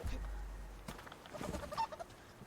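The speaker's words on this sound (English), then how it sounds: "There's no guarantee this chicken's gonna live long enough to make it to my house." Chicken clucking in the survival video game Subsistence during a stormy winter, a few short, soft clucks and rustling sounds over low background wind rumble.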